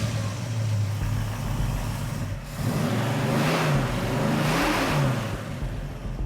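A 1956 Jaguar engine runs close by at a steady idle, then revs up and down in several rising and falling swells with a continuous mechanical drone underneath.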